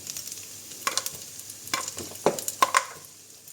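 Garlic and bread fry in olive oil in a pan with a quiet sizzle, broken by several sharp scraping stirs of a utensil.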